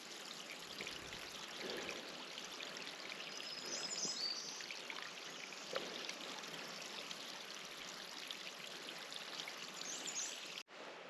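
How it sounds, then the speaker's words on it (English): A small waterfall cascades down a moss-covered rock wall in Pictured Rocks National Lakeshore, giving a steady, soft, close trickling and splashing flow that runs unbroken with no voices. "It's kind of a neat little waterfall. Cascading down the wall."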